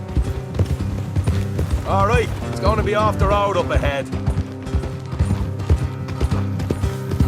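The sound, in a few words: horses' hooves clip-clopping, from video game Red Dead Redemption II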